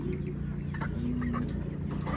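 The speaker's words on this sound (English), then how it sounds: "Bigger one, those are roosters." Roosters and hens on a backyard egg-raising setup cluck steadily close by, with short overlapping calls over a continuous low hum.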